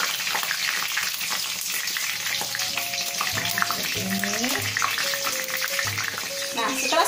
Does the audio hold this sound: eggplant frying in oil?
yes